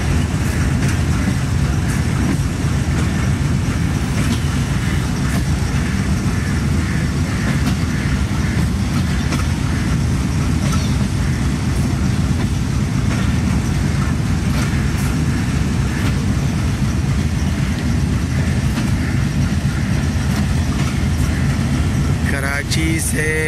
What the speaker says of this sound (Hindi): अपनों में ईद मनाने के लिए शालीमार एक्सप्रेस कराची से रवाना हो गई है।